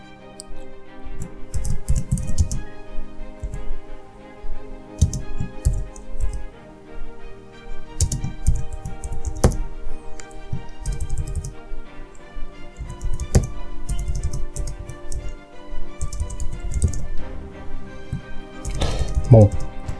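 Text is typed on a computer keyboard while working in Fusion 360 CAD software, giving irregular bursts of close key clicks over about twenty seconds, with scattered taps and pauses. A faint voice speaks at times.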